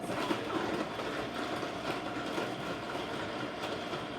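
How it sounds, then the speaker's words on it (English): A blender roars steadily as it crushes ice, producing a dense, continuous grinding rush with rattling texture throughout. "So you can hear the ice as it's mixing."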